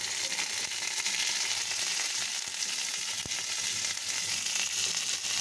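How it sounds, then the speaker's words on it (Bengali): Neem leaves frying in oil in a wok give a steady, loud, close sizzle that runs unbroken throughout, with no voices. "নিম পাতাটা ভালোভাবে ভাজা হয়ে গিয়েছে"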